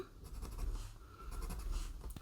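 A pencil scratches steadily across a basket cover panel while marking score lines, a close, dry rasping drawn out in a few short strokes with brief pauses between them.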